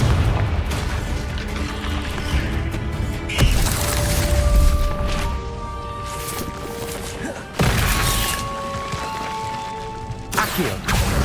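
Confringo blasting spell in Hogwarts Legacy, repeated booming explosions and crashing bursts layered over spell-casting effects and game music, loud with several sharp blasts spread across the stretch.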